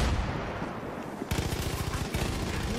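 Rapid automatic gunfire in the video game Far Cry 5, a loud dense burst of repeated shots starting after a quieter stretch, with a second volley near the end and no talk over it.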